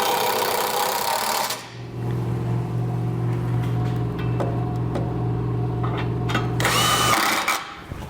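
A power tool with a 19mm socket snugs up trailer hitch bolts on a Curt front mount hitch receiver, a steady loud whirring hum lasting several seconds, close by with no talk.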